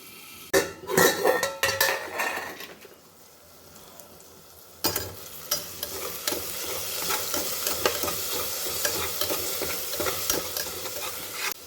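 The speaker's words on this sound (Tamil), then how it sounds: "தக்காளி வேகிறதுக்கு சிம்மில் வச்சு மூடி போட்டு வேக வச்சுக்கிறேன்" Tomatoes cook on low heat for tomato rice, a steady sizzle under utensil clinks and pan clatter. A sharp metallic knock partway through sounds like the lid going on, and the sizzle carries on after it.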